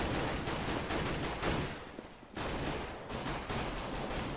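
Rapid automatic gunfire in the video game Counter-Strike: Global Offensive, dense bursts of shots crackling almost continuously, loud and close, with a brief lull in the middle before firing resumes.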